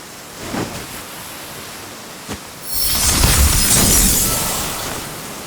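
An ice storm spell in Octopath Traveler 2 forms a boat of ice over buoyant straw: a faint crackle and a brief sharp tick, then a loud rushing, shattering wash that swells and slowly fades.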